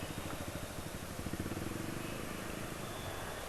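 A Honda motorcycle idles after an oil change to Bardahl Moto 4 Plus. It gives a faint, steady low rumble under surrounding background noise.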